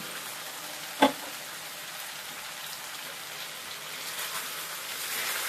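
Pumpkin pieces fry in a pan over medium heat, giving a steady close sizzle and hiss, broken by one sharp clank near the start.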